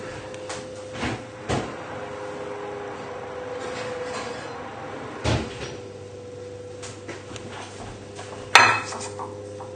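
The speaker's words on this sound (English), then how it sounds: "So if you go and get your muffin tray from the oven, and we'll get on filling them." A muffin tray being taken from the oven for spinach and mushroom frittatas, with scattered metallic clatters, knocks and a sharp clank near the end over a low steady hum, nearby and without talk.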